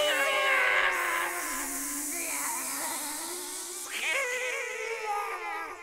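Several cats yowl and caterwaul in overlapping, wavering howls that rise and fall, loud and close for a few seconds, set in a children's story about a match in the sky.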